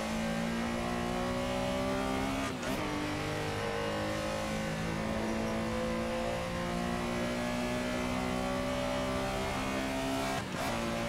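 A Porsche Carrera engine in the Assetto Corsa racing game at Silverstone revs high and steady along a straight, with two brief dips at gear shifts, loud and continuous with no talk.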